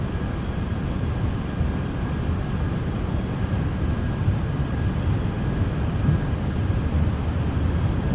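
An airliner in Microsoft Flight Simulator 2024 rolls down the runway for takeoff, a steady loud engine roar and rumble that holds for the whole stretch without talk.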